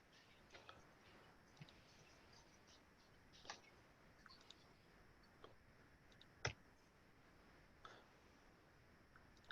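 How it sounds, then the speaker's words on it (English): Sparse, faint typing on a keyboard during a bylaws meeting: scattered light clicks and taps at irregular intervals over a quiet room tone, with no voices. "I'll let you finish with your typing."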